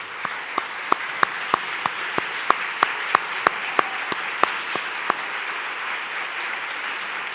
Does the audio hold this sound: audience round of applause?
yes